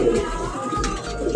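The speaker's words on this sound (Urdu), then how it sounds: "یہ جی یہ کبوتر ہے" A pigeon kept on a rooftop in Sialkot coos softly over a steady, noisy background, with low murmuring calls close by.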